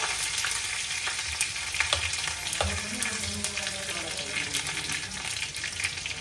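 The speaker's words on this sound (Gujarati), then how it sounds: "રાઈ જીરું તતડે એની સાથે આપણે તલ અને થોડા કઢી પત્તા એડ કરી દેવાના છે" Mustard and cumin seeds crackle in hot oil in a kadai as sesame seeds and curry leaves go in for a dal-rice handvo, making a dense, continuous popping sizzle at close range.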